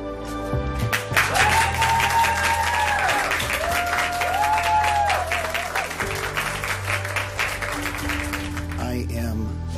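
Clapping and some cheering from a crowd at a council session after a resolution vote, a dense steady patter of hands that fades toward the end, with a voice and tonal noises underneath.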